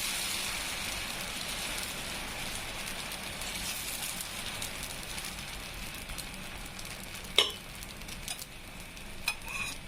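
Toor dal dosa batter sizzles steadily on a hot griddle, a continuous close crackle and hiss throughout, with a couple of brief sharper clicks near the end and no talking.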